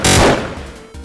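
A single loud gunshot from a homemade Call of Duty Warzone-style video game cracks sharply at the start and then decays into a short reverberant tail.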